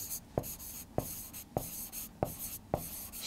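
Pen on paper writing out a physics solution: a run of quick scratchy strokes with regular taps about every half second, close and clear, with no talking.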